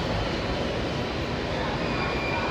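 Steady loud rumble of a running diesel engine train, a dense continuous low roar with no pauses throughout.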